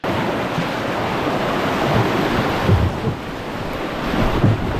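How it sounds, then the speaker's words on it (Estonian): Strong wind buffets the microphone on a breezy, sunny Swedish island, a steady roar with gusts, as waves wash in the background. "Oi, see tuul on nii mõnus."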